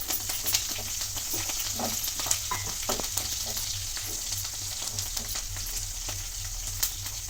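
Garlic and a handful of curry leaves fry in hot oil in a pan, giving a steady close sizzle with occasional crackles and light stirring scrapes, no voices.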